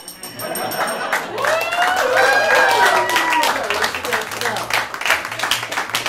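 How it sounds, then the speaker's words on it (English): Audience applause at an improv comedy show, a broad wash of clapping that swells and holds for several seconds, with voices talking and whooping through it. "Judging by that applause, I would have given them about 2 out of 5 points."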